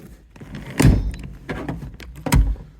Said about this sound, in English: you flip it and they flip forward, so you can get access to the back seat if you want to. And they also fold back down